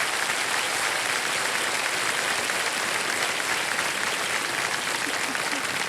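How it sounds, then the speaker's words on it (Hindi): Studio audience applause on the Hindi quiz show Kaun Banega Crorepati, a continuous loud roar of clapping that stays constant for the full length, with no talk on top. "तालियां बजते रहे देवियों संजय।"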